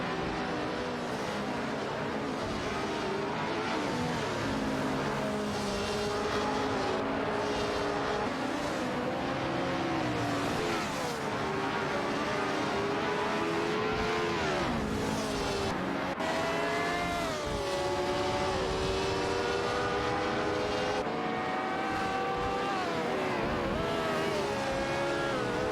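Several race car engines roar continuously in a racing video game, loud and dense, with rising and falling revs as cars accelerate, shift and pass one another, and no talk.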